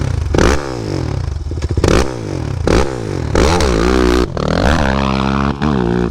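A Kawasaki KFX450R ATV launches hard in a drag race, its engine roaring loud and close, revving up through rising pitch sweeps, pausing briefly at each gear shift, then climbing again.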